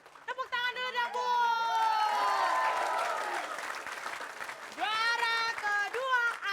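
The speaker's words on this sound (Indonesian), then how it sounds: "Tepuk tangan dulu dong, Bu." An audience at a comedy show applauds and cheers in a loud, sustained burst, with voices shouting and talking over the clapping, near and lively throughout.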